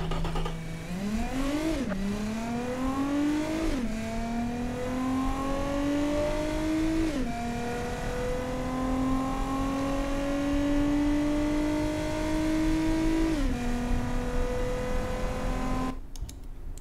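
A car accelerating hard in a performance test in the Automation game, its engine climbing steadily in pitch through several gear changes with brief dips between shifts, loud and continuous, then cutting off abruptly at the end.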